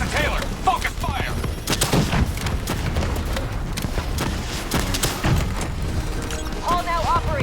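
Dense, loud gunfire in the video game Call of Duty: Black Ops III, rapid automatic bursts and heavy booms packed close together, with voices calling out over the combat.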